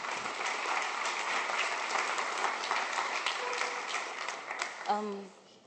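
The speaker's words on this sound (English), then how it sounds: "A warm round of applause, please" An audience at a United Nations Global Compact climate leadership event gives a warm round of applause, steady clapping throughout that fades out near the end as a voice briefly cuts in.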